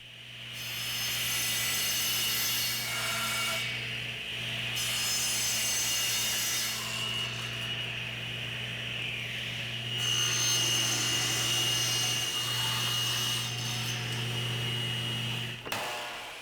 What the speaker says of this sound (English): then I'll use my table saw to rip the post into 4 legs